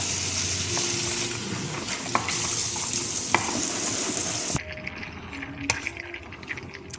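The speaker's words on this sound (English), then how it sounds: "So I'm melting some butter here," Butter melting and foaming in a pan before cooking garlic naan, a close steady sizzle with a few sharp clicks that drops suddenly to a quieter fizz partway through.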